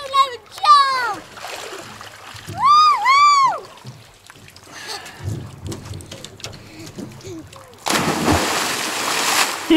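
A person jumps into Lake Powell, landing with a loud, close splash near the end after whistling calls and voices of people talking and cheering on the shore or boat.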